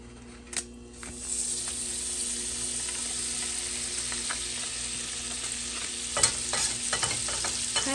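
Half a stick of unsalted pure Irish butter melting in a pan over moderate heat, a steady close hiss of sizzling with occasional light clicks of stirring.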